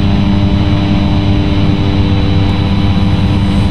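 Carenado C208B Caravan single turboprop engine in X-Plane 10, a loud steady drone with a constant low rumble and a whining hum, unbroken throughout and with no talk.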